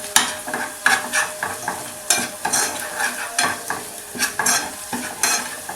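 Meat frying in a tray sizzles as water is poured in, giving a steady hiss broken by repeated stirring scrapes and clinks at a close, even level with no talking.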